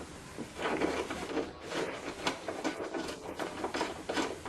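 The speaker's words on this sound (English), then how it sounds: "use the socket to tighten the nut all the way into place" A socket wrench tightens a nut in an auto repair setting, giving a steady run of close, rapid ratcheting clicks and mechanical rattles in an irregular rhythm with no talking.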